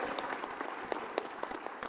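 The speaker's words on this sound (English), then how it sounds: "Can we give them a round of applause?" Brief applause for a panel at a mining week session, a faint, quick patter of clapping from a sparse audience with a few louder individual claps.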